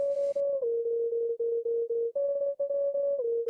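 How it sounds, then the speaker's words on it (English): Pure electronic tones sonifying a neural network's accuracy step between two pitches, broken into short beeps with brief gaps, clean and synthetic with no voices. "we map the accuracy of the model to the sound you hear"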